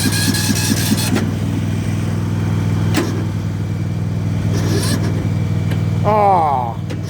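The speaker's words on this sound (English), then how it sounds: "I think I heard the engine on the Husqvarna change" A Husqvarna lawn machine engine runs at a steady, loud mid-pitched drone with a constant chugging throb, heard close up. Faint clicks sound now and then, and a person speaks briefly near the end.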